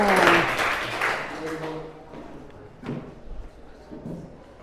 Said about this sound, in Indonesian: Kasih tepuk tangan dulu kepada Ucik.